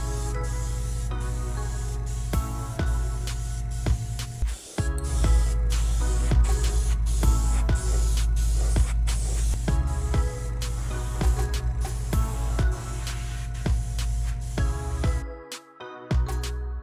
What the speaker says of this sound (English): One went ahead and sprayed the first coat.